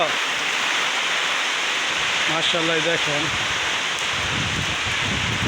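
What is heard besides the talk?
rain falling on a farm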